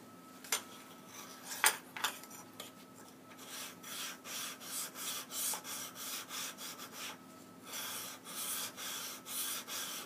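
A metal blade of Sears lawn shears being sharpened on its flat side, giving a steady series of rhythmic rasping strokes, close and fairly quiet, with a few sharper scrapes near the start and no talking.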